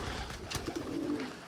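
Pet pigeons or doves coo close by in a short burst of soft, throaty calls over background rustling, without any talk.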